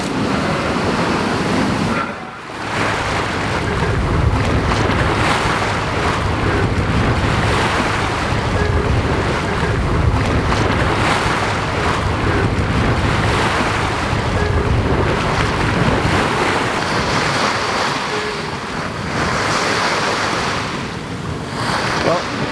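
A sailboat rolling on big Pacific swells in calm air, with continuous loud rushing water and surf, heavy wind buffeting on the microphone and faint voices in the mix.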